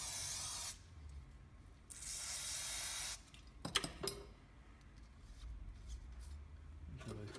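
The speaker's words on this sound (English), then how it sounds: "you can spray off the fan area and the ignition unit as well" Aerosol cleaner sprayed onto the fan area and ignition unit of an ST400i fencing stapler outdoors, heard as two steady hissing bursts of about a second each, followed by clicks and handling noises.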